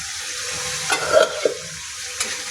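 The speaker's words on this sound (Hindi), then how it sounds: "एकरा बढ़िया जकाँ मिला देबै।" Bottle gourd curry seasoned with roasted kasuri methi is stirred in a pan, giving a few scraping strokes over a low, steady sizzle, close and clear, with no talking.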